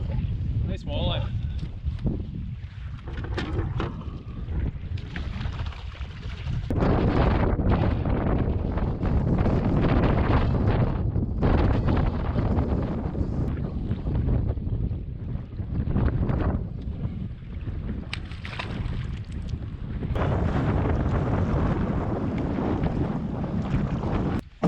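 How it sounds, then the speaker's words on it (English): Strong wind gusts across a lake during a solo wilderness canoe trip, roaring and buffeting the microphone in heavy, continuous waves, while someone talks now and then. "Battling this wind, but can't help but troll."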